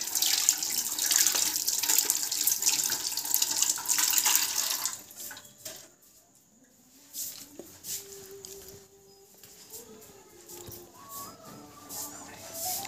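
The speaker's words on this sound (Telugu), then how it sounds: "hand wash" Hands are washed under a running tap, with a loud, steady gush of water for about five seconds before it shuts off, leaving quieter handling sounds and faint background noise.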